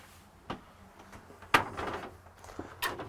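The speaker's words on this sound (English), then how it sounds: "Sliding shower door." A sliding shower door in a 2018 Jayco Envoy 26D motorhome bathroom rolls and clunks along its track, with a few sharp knocks spaced apart, fairly quiet and without voices.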